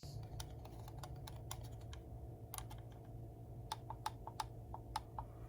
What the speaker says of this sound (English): Logitech click